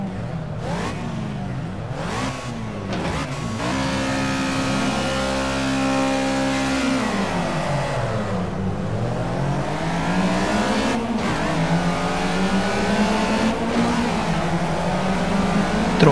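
A racing car's engine in the Project CARS racing game revs hard and continuously, climbing and dropping through gear changes with a loud, sustained whine and no talk.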